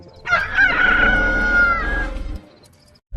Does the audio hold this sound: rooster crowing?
yes